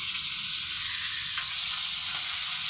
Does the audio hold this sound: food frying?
yes